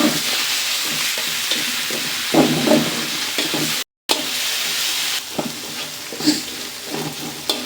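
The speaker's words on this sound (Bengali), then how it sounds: "বন্ধুরা আমার পেঁয়াজ রসুন ভাজা হয়ে গেছে" Onion and garlic paste fries in a pan for a Ghonia fish curry, giving a steady close sizzle broken by repeated scraping stirs and a brief dropout midway.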